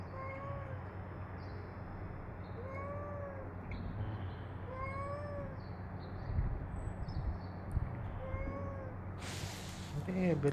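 An adopted cat meows repeatedly for food, a string of clear rising-and-falling calls spaced a second or two apart over a steady low background hum, with a brief rustling burst near the end.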